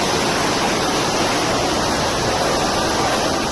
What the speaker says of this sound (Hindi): पानी का बहाव इतना तेज रहा कि आसपास के मकानों के ढह जाने का खतरा पैदा हो गया